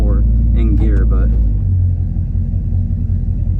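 A Chevy small-block engine idles in a square-body truck, giving a loud, steady low rumble close by. Someone talks briefly over it at the start.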